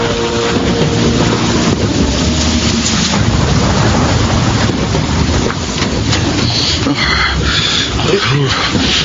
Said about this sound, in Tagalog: bakit sinugod mong malakas na ulan?